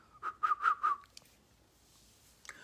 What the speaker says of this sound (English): You know, I tried to whistle.